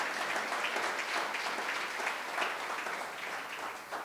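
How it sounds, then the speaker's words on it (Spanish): A congregation applauds during a Spanish-language sermon: steady, even clapping from a crowd, moderately distant and fairly soft, sustained throughout without voices. "Dale un fuerte aplauso a Dios"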